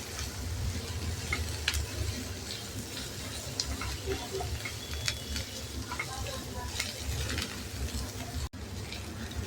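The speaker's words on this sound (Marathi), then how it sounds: "हे असं थोडं भाजी आपण 5 मिनटं आपण शिजवून घेणार आहोत." Vegetables sizzle softly in a pan while being stirred for a homemade vermicelli dish, a steady low frying hiss with scattered scraping clicks close by.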